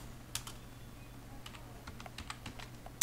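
Typing on a computer keyboard, with quick close key taps in short irregular bursts at low volume and a louder final keystroke at the end.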